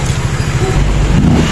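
A Honda ADV 150 scooter fitted with a Griffin torque drive accelerates hard, its engine note steady and close throughout the short burst, with no voices.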